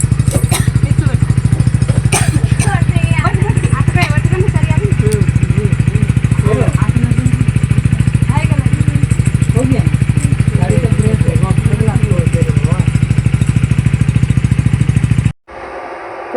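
A motorcycle engine idles and chugs loudly up close for a long stretch, with some clatter and faint voices, then cuts off abruptly.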